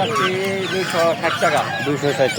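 Fifteen-day-old tiger chicken chicks at a traditional village market, peeping in high, rapid overlapping chirps close by, mixed with clucks and honks from other fowl and people talking around them.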